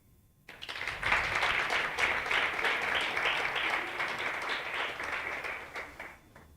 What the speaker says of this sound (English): Let us continue clapping until he gets here.